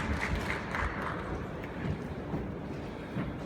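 Audience applause at the Kakao Bank launch ceremony: a steady wash of many hands clapping for about three and a half seconds, dense and even, with no voices standing out.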